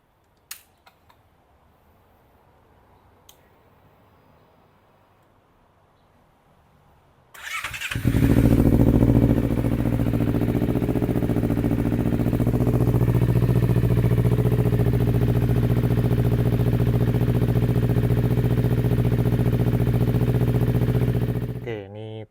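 A Honda CBR250RR motorcycle, fresh from an oil change, cranks and fires up after some quiet handling clicks, then settles into a loud, steady idle close by that holds until it is shut off at the end.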